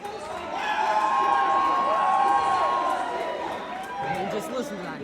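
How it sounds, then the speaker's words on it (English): A home crowd in a gym at a Howland versus Poland girls' basketball game cheers and chatters loudly, with a swell of voices and whistling tones, partly under a voice talking, easing slightly toward the end. "And just listen to that crowd."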